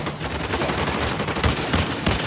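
Dense, sustained gunfire from the video game Uncharted: The Lost Legacy, a loud continuous fusillade of overlapping shots and bursts with no pauses.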